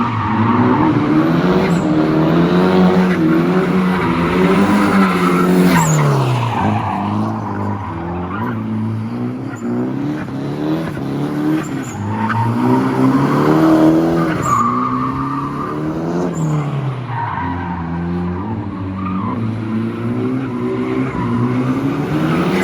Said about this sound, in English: let's go do a couple skids somewhere